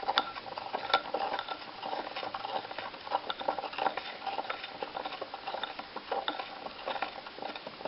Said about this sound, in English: So we're supposed to stir this for 3 minutes